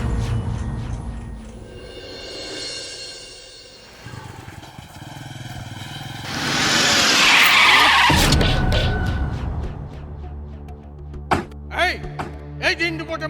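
A car skidding to a sudden stop on a road in daytime: a long tire squeal rises to a loud peak, ends in a thump, then sharp knocks follow while voices are heard.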